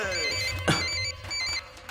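A telephone ringtone plays in short repeated bursts, fairly loud, with a brief sharp knock partway through and faint voices underneath.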